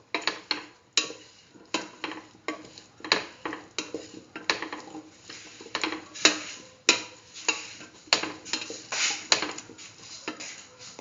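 Cauliflower and chayote rice being stirred in a pan, with a steady series of sharp clinks and scrapes of a utensil against the pan at an even rhythm, close and moderately quiet, no voices.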